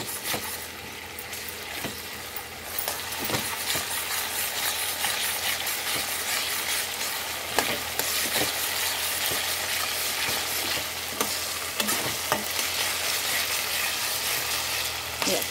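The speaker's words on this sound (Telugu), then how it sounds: "ఈ అల్లం వెల్లుల్లి కూడా వేగిపోవాలి." Ginger and garlic fry in a pan for a raw fish and brinjal curry, giving a steady, close hiss of sizzling oil broken by occasional sharp clicks and scrapes of stirring.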